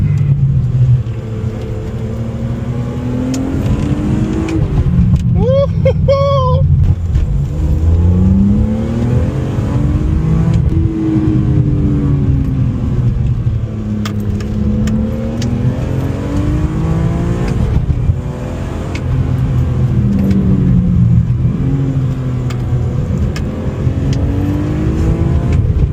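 A BMW E46 M3 or Renault Clio V6 is driven hard on UK country roads, its engine droning loudly and rising and falling through repeated revs and gear changes, with a brief high whine partway through.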